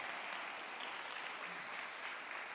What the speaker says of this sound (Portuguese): vocês podem aplaudir esse casal aqui maravilhoso